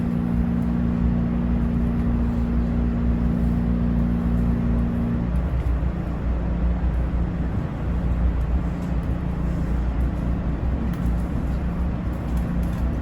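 A MARC commuter train locomotive throbs with a deep, steady engine drone heard from on board, a low tonal hum that shifts as the engine revs up about midway and stays loud.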